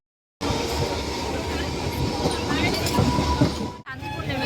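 Train running on rails on a Bengal line toward Shantipur, a steady rumbling rolling roar with rattling carriage noise throughout, heard from inside or close by, dipping briefly near the end before resuming.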